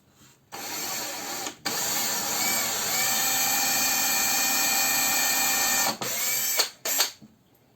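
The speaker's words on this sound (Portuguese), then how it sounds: "Fez o primeiro furo, limpa a ponta da broca e volta para fazer o segundo." A drill whines at high pitch while boring into wood for a spice niche in a woodworking class, one long sustained run between short starts and stops, close and loud.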